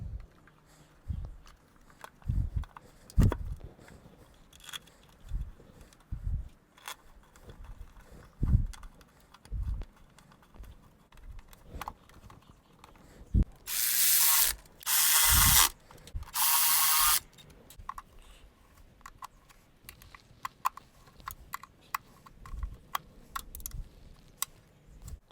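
Bolts on a Toyota Tercel timing belt cover being tightened with a ratchet on 10mm bolts, giving scattered close clicks and knocks through most of the stretch, with a few louder bursts of continuous ratcheting midway.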